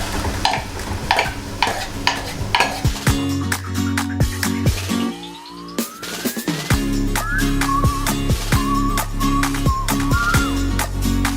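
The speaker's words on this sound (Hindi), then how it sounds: "अब हम इसमें टमाटर का पेस्ट डाल देंगे।" Tomato paste hitting light-brown frying onions in a pan for Punjabi chole gravy, with a loud sizzle and repeated clanking spoon stirs, close up, with a rising whine-like tone partway through.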